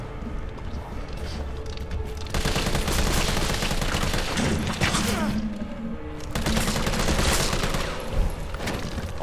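Rapid, sustained gunfire in the Resident Evil 3 Remake video game, loud and dense bursts filling the whole span with a brief lull near the middle, no talk over it.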